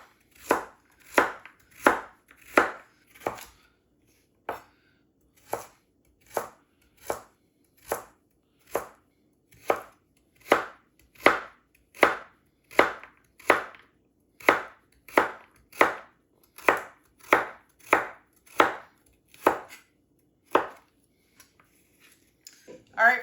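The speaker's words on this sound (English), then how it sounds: "we'll go ahead and just cut these into smaller pieces, about the same size as the celery" A knife on a cutting board chops vegetables into small pieces for shepherd's pie soup, about twenty crisp, close strokes in a steady rhythm with only a short pause early on.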